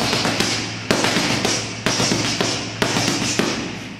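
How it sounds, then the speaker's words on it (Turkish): Fast punches landing on a boxing heavy bag during technique training, a rhythmic series of sharp close thuds, often in quick pairs or triples, each fading briefly before the next. "Hızla vuruyorum. Torba gidiyor, gelmeden bir daha."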